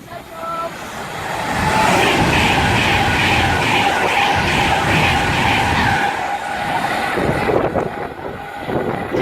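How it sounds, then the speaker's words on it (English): A Virgin Pendolino train on the West Coast Main Line at Winsford racing through the station at speed, a loud close roar with rhythmic wheel beats and a high whine, fading slightly as it passes. "now passing through is going to be another Virgin Pendolino to Glasgow Central from London Euston"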